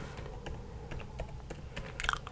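Someone types on a computer keyboard while searching in a web browser, producing a quiet, close, irregular patter of key clicks for a couple of seconds with no talking.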